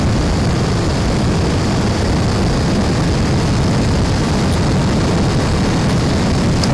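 A Harley-Davidson FXBR/S Breakout fitted with TRIJYA-Style parts in matte muscle black, ridden on the road, gives a loud, steady roar of engine and wind that holds unbroken throughout with no talking.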